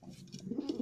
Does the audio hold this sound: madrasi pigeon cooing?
yes